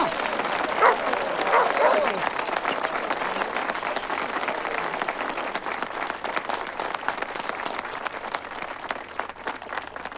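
A studio audience at a Christmas special applauds steadily, a broad wash of clapping that starts strong and slowly thins, with brief voices heard over it early on.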